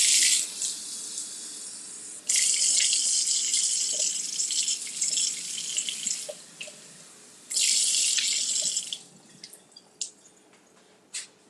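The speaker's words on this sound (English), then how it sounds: "So I'm just going to rinse these off." A kitchen tap runs over blueberries being rinsed, the water hissing loudly in two long spells with softer drips and trickles between, and small splashes as the berries shift under the stream.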